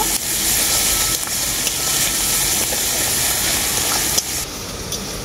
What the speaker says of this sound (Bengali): পেঁয়াজটাকে আমি খুব ভালো করে ভেজে নেব।